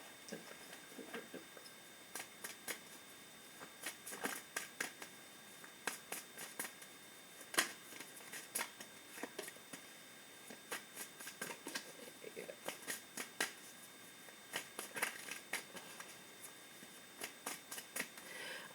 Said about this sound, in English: while I'm sitting here shuffling